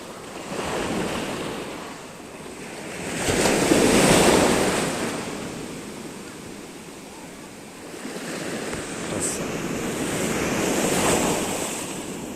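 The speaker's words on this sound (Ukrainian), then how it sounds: "хвилі б'ють, збивають з ніг" Black Sea waves at Odesa break and wash ashore in slow swells, rising and falling roughly every few seconds, with gusty wind buffeting the microphone.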